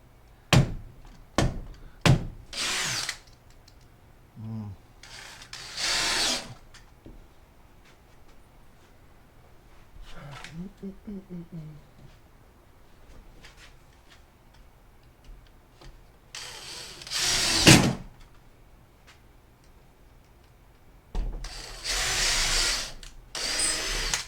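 A power drill drives screws into plywood siding on a micro camper build, giving several short bursts and a few longer whirring runs separated by quiet gaps, with occasional knocks and handling sounds.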